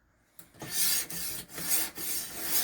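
Knife sharpened on a coarse stone of a RUIXIN PRO RX-009 guided system: steady, close rasping strokes in quick succession, each a long gritty scrape with brief gaps between, no speech.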